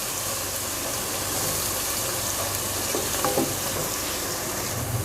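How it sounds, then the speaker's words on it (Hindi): Garlic and ginger frying over medium heat in a pan for aloo palak, a steady soft sizzle with faint stirring scrapes running throughout, no voices. "आँच मैंने मीडियम रखी हुई है, और इसको 1-2 मिनट तक भूनेंगे इसमें"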